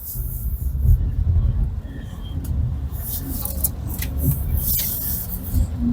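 A 2025 BYD Seal Advanced electric car driving in sport mode on a proving ground, heard from inside as a steady low road rumble and tyre roar with some wind noise, continuous and fairly loud.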